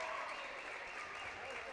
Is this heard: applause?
yes